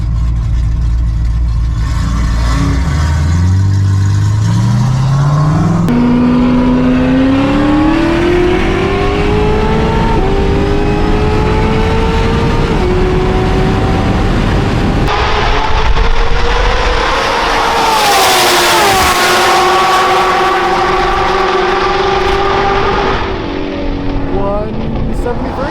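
A 1,000 hp Corvette ZR1 with wings fitted accelerates hard at speed. Its engine note climbs steadily through the gears over a loud, continuous roar of wind and road noise, heard from inside the car.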